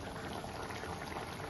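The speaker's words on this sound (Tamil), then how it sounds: "குழம்பு நல்லா கொதிச்சிருச்சு" Mushroom gravy bubbling in a pot on the stove, a steady close boil of soft popping and churning with no voices.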